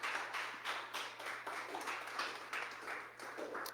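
A church congregation claps in a fairly even, rhythmic applause that rises and falls slightly, moderately near with no talking over it.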